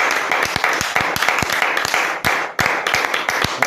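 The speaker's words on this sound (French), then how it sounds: "Applaudissons pour le Seigneur" A church congregation in Bafoussam claps during a revival worship service, a dense loud stream of rhythmic hand claps with voices faintly mixed in.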